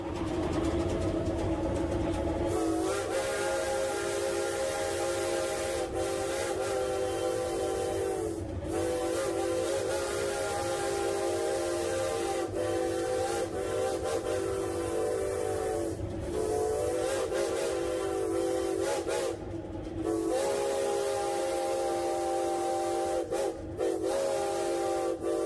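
A steam engine in the Appalachians sounds a long, loud whistle chord that holds through the whole stretch, dipping briefly several times, over a constant low rumble and hiss.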